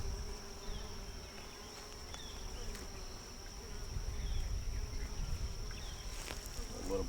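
Honeybees buzz around an opened beehive, a steady close hum of many wings that swells slightly toward the end, with faint background movement.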